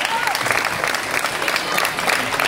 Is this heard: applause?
yes